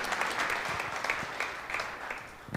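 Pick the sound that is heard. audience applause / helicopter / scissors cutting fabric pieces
audience applause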